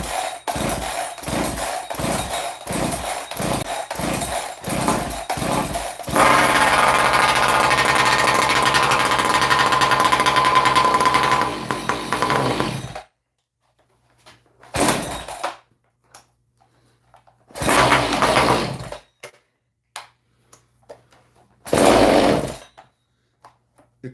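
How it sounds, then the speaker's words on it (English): A cold chainsaw being started outdoors: a run of short rhythmic pull-cord bursts, then a loud sustained engine roar for several seconds that cuts out, followed by a few separate revving attempts. "Let the chainsaw music begin."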